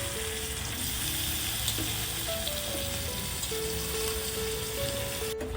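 Brinjal and potato pieces sizzle steadily in hot, cooked spice masala in a pan. The frying crackle is close and continuous, with no voices over it.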